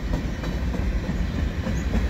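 A mixed freight train led by a CN ES44AC locomotive rolls past at Dorval, close and loud, its wheels clattering in steady clickety-clack rhythm over the rails with a deep rumble underneath.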